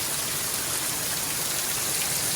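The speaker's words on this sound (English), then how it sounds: "When it rains, it comes down hard and fast." Heavy rain pours down outside a house with no eaves, a loud, steady hiss of water hitting surfaces that fills the whole stretch without a break.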